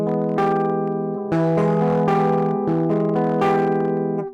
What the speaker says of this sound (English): and if we make it a add flat 9 chord, it sounds like this.